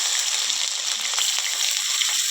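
Ground onion, red chili, green chili, cumin and ginger-garlic pastes hit hot oil left from frying pangas fish. A loud, steady, close sizzle hisses continuously on its own.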